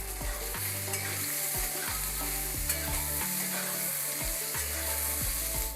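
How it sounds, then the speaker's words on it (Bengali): Brinjal pieces fry in hot oil until browned, giving a continuous close sizzle and crackle with stirring scrapes, heard alone over a steady low hum. "লাল লাল করে ভেজে নেব বেগুনটা, তারপরে বেগুনটাকে নামিয়ে রাখতে হবে"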